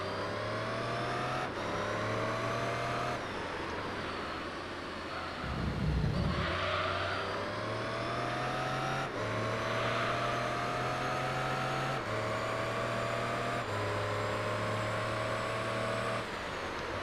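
A race car engine in Gran Turismo 3 holds a steady high-revving drone through a career-mode race, stepping up through gears with periodic shifts and a brief rumble over rough ground midway.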